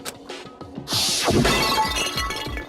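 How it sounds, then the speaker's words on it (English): A bottle shattering in a Danganronpa: Trigger Happy Havoc game sound effect, the Monokuma bottle smashing as one loud crash of breaking glass followed by scattering shards and tinkling debris. "I grabbed the Monokuma bottle from the shelf and smashed it across her head."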